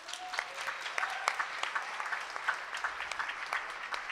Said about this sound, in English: Can we get a round of applause for Ethan, please?